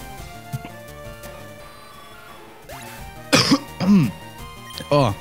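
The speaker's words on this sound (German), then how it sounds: "Oh, da wollte gerade ein Huster raus." Someone clears their throat with a few short, forceful, stifled coughing rasps that hold back a full cough, close to the microphone, over soft retro video game music.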